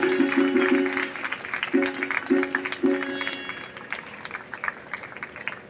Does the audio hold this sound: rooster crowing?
no